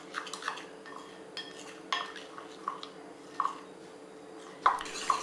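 A spoon scrapes and clinks against a bowl while milk chocolate and hot boiled milk are stirred into ganache, with irregular metallic taps and wet squishing sounds spaced every second or so, close and clear.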